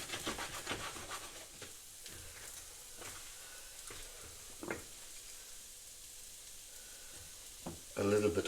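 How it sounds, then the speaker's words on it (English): Mushrooms sautéing in a pan for a salad, a soft low sizzle broken by several sharp stirring scrapes, with a louder burst near the end. "I will saute the mushrooms here for our eighth and final component for the salad."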